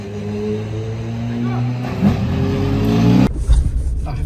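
A Formula 1 car's engine catching after a push start with a dead starter: a low droning note builds, rises into a louder rough rev, then cuts to sputtering bursts, with voices in the background.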